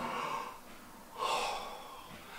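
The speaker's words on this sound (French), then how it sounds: "Le bâillement" A dog yawns in two breathy, airy exhalations, soft and close, with a quiet pause between them.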